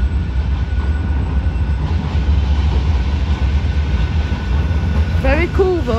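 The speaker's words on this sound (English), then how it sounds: "Got a bendy tram here." A low, rumbling roar from an articulated tram passing close by on a Manchester street, steady and loud throughout, ending in a few rising squeals; someone speaks over it.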